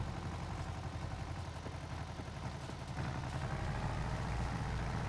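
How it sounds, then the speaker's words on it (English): A small tractor in Farming Simulator 22 runs with a loud, steady engine drone, its low rumbling note constant and close throughout, with no talk over it. "Kind of a loud little tractor."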